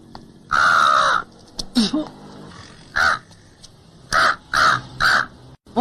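Crow cawing repeatedly nearby in loud, harsh bursts, first one long call and then a run of shorter caws at an uneven rhythm, with faint background sounds between them.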